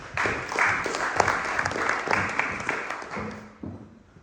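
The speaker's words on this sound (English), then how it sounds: "A huge round of applause for her." Audience clapping in a council chamber for a life coach at a community celebration event, a lively burst of applause that tapers off near the end.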